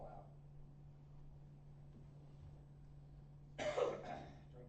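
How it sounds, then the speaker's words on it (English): One short, rough throat clearing near the end, after a stretch of near-quiet with a steady low hum underneath. "Trying to clear my throat there"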